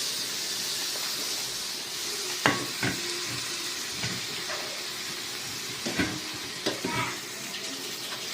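Chopped tomatoes go into chicken frying in a pan, which gives a continuous hiss and sizzle. Scattered clatters and scrapes of stirring come now and then, with a bigger burst near the start.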